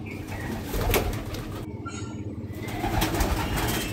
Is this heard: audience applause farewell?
no